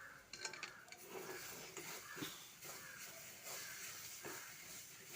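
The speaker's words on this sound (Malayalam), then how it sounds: "ഇനി നമുക്കിത് ഇളക്കി കൊടുക്കാവേ." Masala and onions being stirred in a pan, with steady scraping and clinking of a spoon against metal over a soft sizzling hiss, close and moderately quiet.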